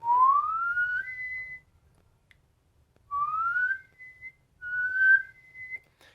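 A person whistles clear gliding notes that slide upward and jump to a higher register, three separate phrases with short pauses between, close and alone.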